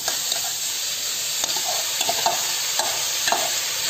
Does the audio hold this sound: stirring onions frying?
yes